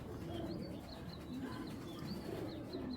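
Giribaz pigeons coo steadily at close range, a continuous low murmur with a few higher chirps scattered over it, and no one speaks.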